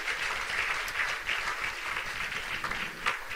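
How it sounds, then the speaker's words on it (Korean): Sustained applause from a church conference audience, a dense, steady wash of clapping hands lasting throughout at moderate level with no talk over it. "다시 한번 주님께 감사의 박수와 영광의 박수 올려드리겠습니다"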